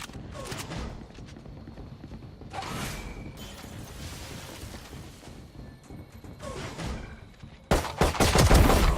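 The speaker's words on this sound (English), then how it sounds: "Reloading." A weapon in a video game clicks and clacks with metallic reload sounds, with scattered shots and impacts between them, and a loud burst of gunfire bursts in at the end.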